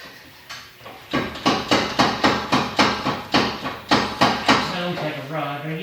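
Toyota Supra engine on a dyno with a possible rod knock, heard as a loud, steady series of about a dozen sharp metallic knocks in even rhythm, then fading into a lighter hum with faint voices.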